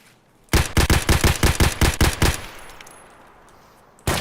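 Rapid semi-automatic SKS rifle fire in the shooter game Escape from Tarkov, about ten loud, sharp shots in quick succession, followed by a fading echo and one more shot at the very end.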